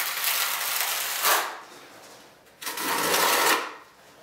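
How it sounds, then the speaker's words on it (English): A trowel scraping thin-set mortar across cork underlayment in two long, close, gritty strokes, separated by a short pause. "then I'm going to use my troweled side. And I'm just going to scrape it through."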